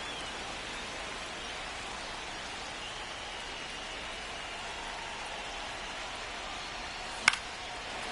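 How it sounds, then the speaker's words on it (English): Steady hiss of rain pouring over a baseball stadium in MLB The Show 25, a constant even wash throughout with one brief sharp knock near the end. "This rain is not letting up."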